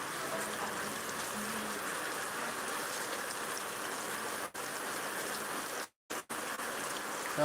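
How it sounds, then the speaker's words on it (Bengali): Steady rain falling outdoors during a live stream in Bangladesh, a continuous dense hiss without breaks apart from a couple of brief dropouts, with no voices over it. "অনেক বৃষ্টি হয়েছে এখন বৃষ্টি হালকা রয়েছে আরও কমে যাবে"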